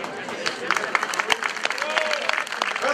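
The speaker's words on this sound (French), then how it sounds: "On applaudit très très fort." Crowd applauding at the podium of the Tro Bro Léon professional cycling race outdoors, scattered claps and cheers mixed with a loud announcer talking over them.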